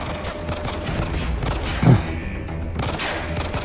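Video game gunfire from The Evil Within 2 crackles in dense, rapid bursts with thuds mixed in, and a heavier impact stands out midway.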